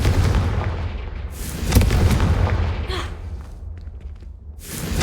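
Confringo blasting spell cast in the video game Hogwarts Legacy: a loud burst at about two seconds over rumbling game ambience, with a second whooshing flare near the end.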